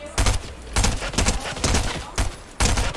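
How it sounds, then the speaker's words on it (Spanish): Gunfire in Fortnite, several loud rapid-fire bursts of automatic shots separated by short gaps, sharp and close, with no talking. "Y sigues disparando, así que está por ahí"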